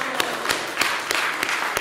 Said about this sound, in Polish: szczególne brawa dla ziemi kościelskiej, dla pani Walewskiej, dla księdza tutaj